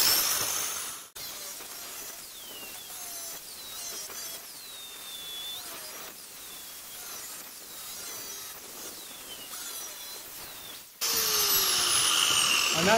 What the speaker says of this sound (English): So we just take the grinder.